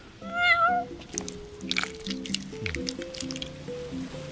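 Cat in Final Fantasy XV gives one clear, close meow, followed by game music and light wet squishing sounds.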